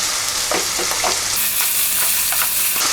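Chopped onion fries in a pan over a raised gas flame, giving a steady, loud sizzle with stirring scrapes and spatula clicks throughout, no voices.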